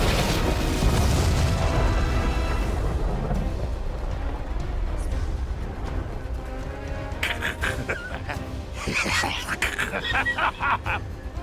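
Heavy booming blast from an explosion spell in the video game Infinity Strash Dragon Quest, a loud rumbling burst up front that fades into a long roar with crackling bursts later, heard with game dialogue.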